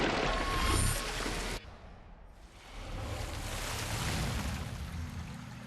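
Rushing water in Darksiders II surges loudly around the player, cuts out briefly, then returns as a softer steady wash like surf and spray.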